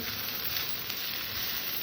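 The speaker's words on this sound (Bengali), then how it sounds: "এটাকেও হালকা করে একটু ভেজে নেবো" Cashews and raisins frying in oil in a pan, giving a steady, dense sizzle that holds evenly close up throughout, with no voices.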